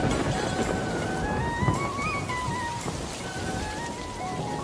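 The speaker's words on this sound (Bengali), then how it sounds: "শাপলা, দিয়া ও রাজু বৃষ্টির পানিতে ভিজতে ভিজতে নদীতে মাছ ধরতে যায়।" Rain falling steadily as a broad, even patter on a rainy day, heard close under soft melodic music that runs throughout.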